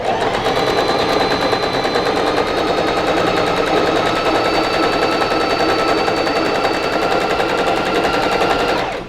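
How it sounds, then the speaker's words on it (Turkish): A PFAFF Smarter 140 S sewing machine runs a straight stitch along fabric guided by a ruler, a loud, steady rapid needle chatter sustained close up until it stops at the end. "Ve düz dikiş konumunda makinamı çalıştırıyorum."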